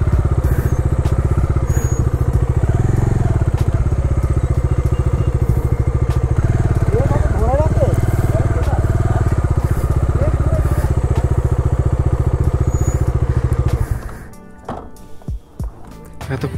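A motorcycle engine idles with a steady, loud putter while the bike is parked on drier ground after its rear wheel sank in mud. A few bumps and knocks are heard, and the engine cuts off near the end, leaving brief thumps.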